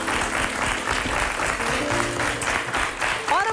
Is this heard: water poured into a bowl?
no